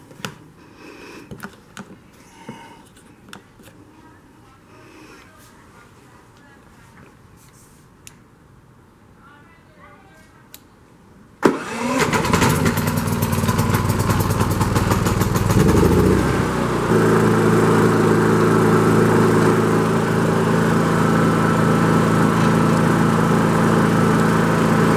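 WEN generators start up with a sudden roar partway through after quiet clicks and handling noises, then settle into a loud, steady engine drone with a brief rise as a second unit joins; a voice speaks faintly early on.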